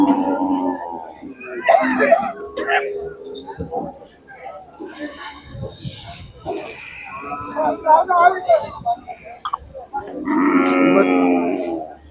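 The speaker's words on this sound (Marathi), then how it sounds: "सांगोला बाजारमध्ये ही पहिली खिल्लार गाय सकाळी सकाळीच आलेले गाब आहे" A Khillar cow at the Sangola cattle market in Solapur, Maharashtra moos in drawn-out calls near the start and again at the end, with people talking and market bustle around it.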